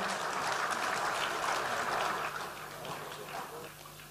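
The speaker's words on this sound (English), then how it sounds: "Please give a big round of applause to the speaker and the moderator." Audience applause at an international seminar, a moderate wash of clapping that fades somewhat partway through, with a voice faintly underneath.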